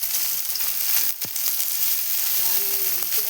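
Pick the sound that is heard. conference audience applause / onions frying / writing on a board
onions frying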